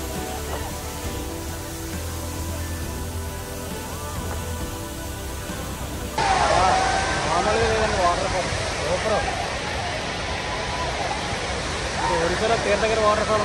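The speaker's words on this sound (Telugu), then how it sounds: "సుమారు 30 మీటర్ల ఎత్తు నుండి కురిసే ఈ జలపాతం వర్షాకాలంలో మరింత అందంగా మారుతుంది" A natural waterfall about 30 metres high near Tekkali gives a steady, broadband rushing roar that grows louder midway, with a person talking over the falling water.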